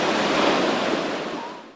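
Heavy surf crashes at a San Diego beach, a loud broad roar of breaking ocean waves that swells and then slowly fades.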